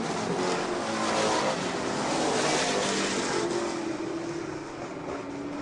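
Race cars charge down the front stretch in a loud, dense engine roar that swells and then eases a little as the pack goes by, with no voices.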